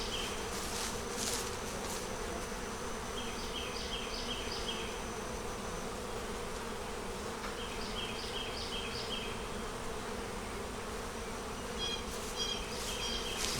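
Honey bees festooning on foundation in a hive make a dense, continuous close buzz. Brief higher whines of individual bees flit past now and then.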